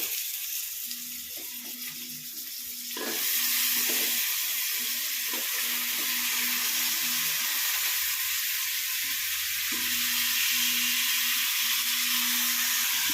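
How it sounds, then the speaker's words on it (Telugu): Fish frying in a hot pan for fish curry gives a steady close sizzle that jumps to a louder, fuller hiss after about three seconds and stays strong throughout. "ఈ విధంగా మొత్తం వేగిన తర్వాత ఫిష్ యాడ్ చేసుకోవాలి"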